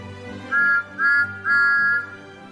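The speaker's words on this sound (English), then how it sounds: "The engine spotted Edward and whistled hello." A steam whistle sounds three clear blasts, two short and one longer, over a faint background hum.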